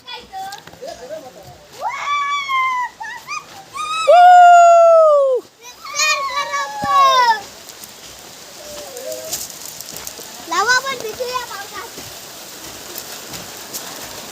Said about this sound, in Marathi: लवकर लवकर आला पाऊस